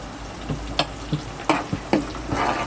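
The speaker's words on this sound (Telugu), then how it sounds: "ఇవన్నీ వేసి బాగా వేగనియాలి" Small onions, dried red chilies, cumin and curry leaves fry in a pan with a soft steady sizzle, broken by several sharp stirring clicks and scrapes of a spoon against the pan, no voices.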